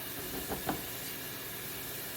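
Food frying in a pan until soft, a steady broadband sizzle and hiss, quiet but continuous with a couple of faint pops, no voices.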